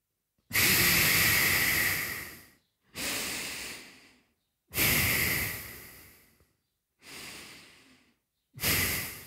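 Deep breaths during a yoga exercise, five long hissing inhales and exhales of about two seconds each, separated by short silent pauses, close and prominent with no talking.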